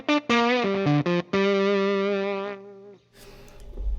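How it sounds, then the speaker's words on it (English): A guitar through a gated fuzz effect plays short choppy notes, then a long sustained buzzing tone that cuts off abruptly, followed by faint noise and rising rumble as the volume knob is turned. "really interesting control of the fuzz sound right from the volume knob on my guitar"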